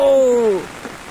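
Rain falls steadily during the rainy season in Assam, a soft hiss behind a loud, falling vocal whoop that fades after about half a second.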